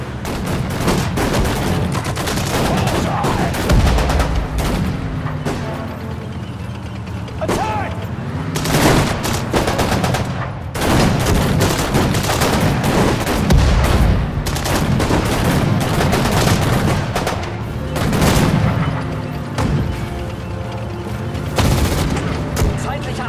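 Battle gunfire in Sudden Strike 4 rattles on continuously: dense rifle and machine-gun bursts with occasional heavier booms, loud and close, with soldiers' voices shouting over the fighting.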